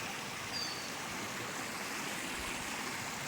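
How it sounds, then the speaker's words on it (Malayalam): A mountain waterfall in Vagamon, Kerala, pours in a steady, dense rushing roar, continuous and even throughout without any voices. "അങ്ങ് മല മുകളിൽ നിന്നും വരുന്ന വെള്ളച്ചാട്ടമാണ്"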